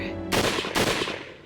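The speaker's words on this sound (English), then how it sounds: "the crack of a nearby gunshot whipped through the air" Two sharp gunshots ring out close by in the Hakuoki video game, each a loud broadband crack with a short decaying tail, the second following about half a second after the first.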